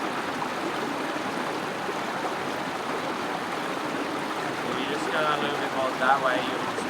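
A clear, deep creek along an Australian 4WD fire trail rushes in a steady, close, broadband wash, with faint chirps surfacing near the end.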